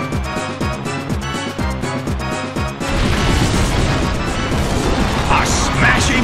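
A heavy attack lands in the Pokémon Battle Revolution video game: a loud, dense crash bursts in about midway through and sustains, replacing the rhythmic battle music.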